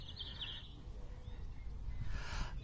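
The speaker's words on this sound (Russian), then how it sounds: "Птицы поют, много красивых домиков вокруг." Birdsong in a city-centre park, faint chirps and calls drifting in at a distance over a low steady rumble of outdoor background noise.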